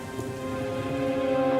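Animated storybook rain with thunder, a steady wash of falling rain blended under sustained musical tones, building slightly in loudness, with no voice heard.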